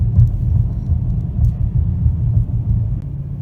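Deep, steady rumble from an AWD Chrysler 300 with a 3.6 V6 and performance exhaust and intake, pulling at low throttle, heard close and continuous with no talking.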